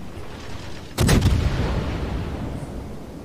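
Naval guns of the cruiser HMAS Perth firing in World of Warships: one heavy booming salvo with a sharp crack and rumbling tail, loud and close over a continuous low background drone.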